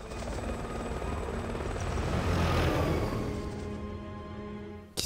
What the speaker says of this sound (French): Faut échapper aux hélicos.